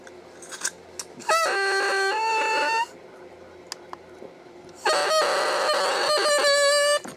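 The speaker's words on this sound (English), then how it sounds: "I'm going to clip it till it crows a B natural, a solid B natural." A double reed is crowed on its own, giving two loud buzzy squawks with a steady pitch, separated by a short pause and some faint handling noise.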